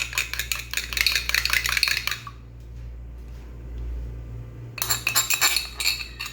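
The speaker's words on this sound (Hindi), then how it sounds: "अंडे को मैं अच्छी तरह बीट कर लूँगी।" Egg being beaten in a bowl while making crispy egg and rice-flour pakoras: rapid, close clinking strokes against the bowl in two bursts, with a quiet pause between them.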